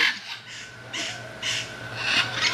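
African grey parrot giving a few short raspy calls at regular intervals, close by against a steady low background hum.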